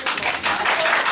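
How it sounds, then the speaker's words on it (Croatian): Guests at a wedding ceremony in a restaurant burst into brief, continuous applause, a dense wash of clapping lasting about a second. "Aplauz."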